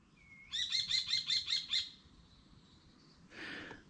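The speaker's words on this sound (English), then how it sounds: "There's a bird up there" A bird up in a tree above a bicycle campsite gives a quick burst of about six bright, rhythmic chirps, then a fainter trailing call and one more short note, heard alone at a moderate distance.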